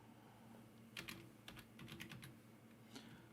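Quiet keystrokes on a computer keyboard while entering text in an Excel spreadsheet, a short burst of soft, close clicks in an uneven rhythm.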